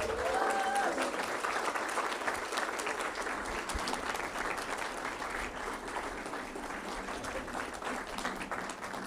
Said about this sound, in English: let's get an applause for our own Cindy Keevil